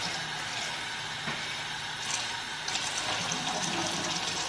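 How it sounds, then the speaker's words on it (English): Water runs steadily from a kitchen sink faucet while canned food such as black beans is drained, a continuous close hiss and splash with no speech. "You're gonna have to hear the water running because we are draining our cans of stuff."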